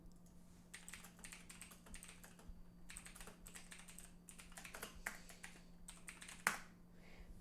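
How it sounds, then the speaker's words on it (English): Quick, uneven bursts of keystrokes clatter on a computer keyboard, fairly close and quiet, with short pauses between runs and a steady low hum beneath. "still typing"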